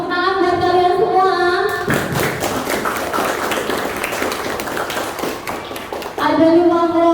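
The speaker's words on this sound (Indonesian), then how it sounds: "Tepuk tangan buat kalian semua." Students in a classroom clap their hands together, a dense burst of many close claps lasting several seconds, with a voice talking just before and after.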